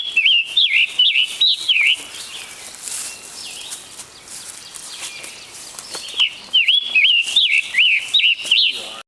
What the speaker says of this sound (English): his voice is like a robin with a sore throat